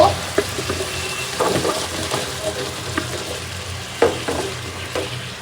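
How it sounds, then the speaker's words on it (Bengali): Spice paste frying in a pan for a Bangladeshi home-cooked meal, a soft continuous sizzle broken by several clinking, scraping stirs of a spoon against the pan. "এখন ভালো করে মশলাটা কষানো হোক।"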